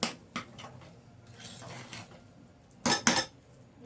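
A spoon stirs Karnataka-style bisibela bath in a cooking pot, soft scraping and occasional metal clinks against the pot, with a couple of louder knocks near the end; no speech.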